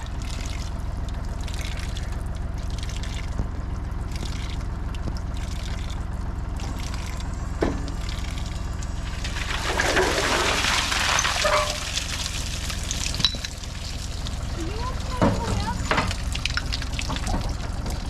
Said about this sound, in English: This is the second time I've drained water, so we're going to be dumping a bit.